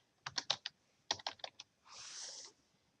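Computer keyboard keys tapped in two short clusters of quiet, close clicks, followed by a brief soft swish.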